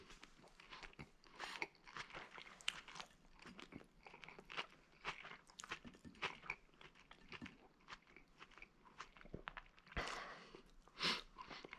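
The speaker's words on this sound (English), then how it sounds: "Let's listen to that crunch." Close, crisp crunching bites and chewing of a juicy burger with locally sourced beef, cooked in a Gozney Dome oven, in repeated irregular bursts with no talking.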